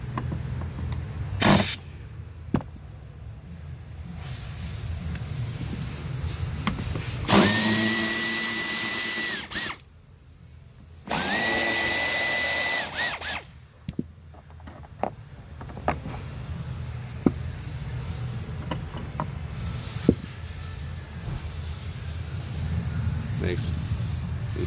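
Power drill running in two bursts of a few seconds each while removing trim bolts inside a Chevrolet Traverse, GMC Acadia or Buick Enclave during rear A/C evaporator replacement; a steady whine set amid quiet clicks and handling noise.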